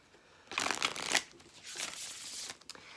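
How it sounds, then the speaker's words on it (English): An oracle card deck is shuffled close up, with a burst of riffling card flutter followed by a softer second riffle and a light tap, fairly quiet and alone. "So let's get this Oracle deck knocked out and shuffled"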